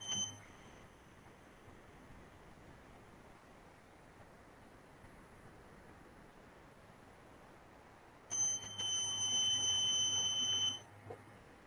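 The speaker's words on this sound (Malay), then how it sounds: "Buzzer ni satu bagi pin, satu bagi ground." A piezo buzzer wired to an Arduino (one leg to pin 8, one to ground) gives a steady, high electronic tone for about two seconds near the end, after a long stretch of quiet hiss.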